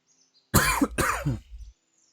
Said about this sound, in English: I got a cough